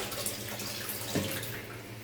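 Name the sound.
washing rice in water for chicken biryani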